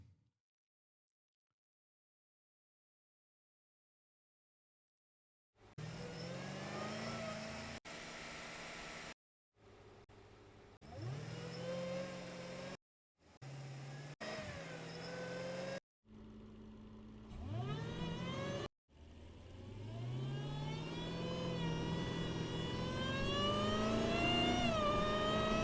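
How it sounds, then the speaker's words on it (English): A Jeep Grand Cherokee Trackhawk revs repeatedly after a silent opening, its engine surging in several short bursts with a rising supercharger whine, then one long sustained climb, loud and close with no talk. "Listen to that whine"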